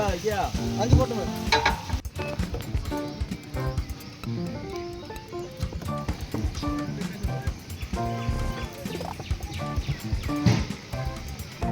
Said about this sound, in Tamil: இந்த பத்து கிலோ வெங்காயமும் நல்லா வதங்குற வரைக்கும் அடுப்பை எறிவிட்டு வேக விட்டாங்க